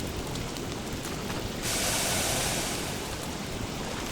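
Steady rain in the video game Don't Starve Together hisses as a dense, even wash of noise, swelling briefly midway before settling back to a constant downpour, with no voices.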